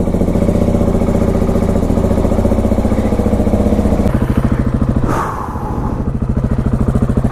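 A KTM 701 motorcycle engine idles loud and close, its rapid, even thumping pulses lasting throughout. Near the end a faint wind-like rush briefly drifts in over it.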